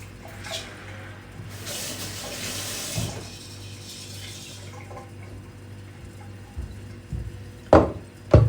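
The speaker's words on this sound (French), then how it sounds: "On rince ces graines." Water runs from a kitchen tap while sprouting seeds are rinsed, a splashing hiss that rises briefly and then fades, followed by scattered knocks and clatters as the container is handled.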